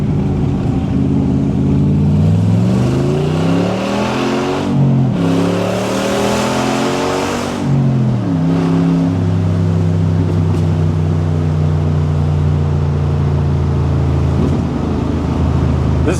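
A 1967 Corvette C2 resto mod with an LS3 V8 and TKX 5-speed accelerates hard, its loud engine note rising through the revs, dipping at gear changes, then settling into a steady high drone.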